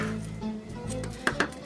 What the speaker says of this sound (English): we're gonna just cut our onions